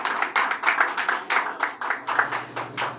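Audience at a Chicago stand-up comedy show claps steadily, a group of hands beating in a quick, fairly even rhythm for a few seconds, close and lively with no talk over it.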